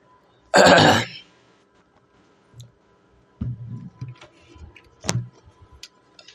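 A person with a cough gives one loud, sharp cough close to the mic, followed by a few quieter throat clearings and small coughs spaced apart in a quiet room.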